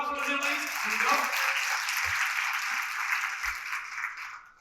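Applause from a conference audience in Dubai, a broad wash of many hands clapping together that holds steady and then fades, with a voice speaking briefly at the start.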